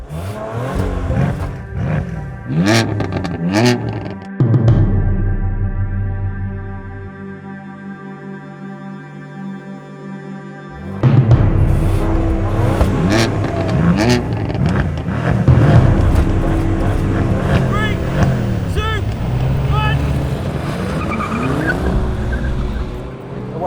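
Powerful engines of an Audi RS5, BMW M4 and Mercedes-AMG C63S roar and rev hard in a drag race, tires squealing, then a brief idle hum before the engines surge again at full acceleration, loud and close.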